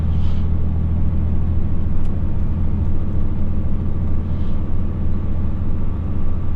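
A heavy goods truck engine rumbles steadily and loudly throughout, a deep low drone with no talking, pulling under load.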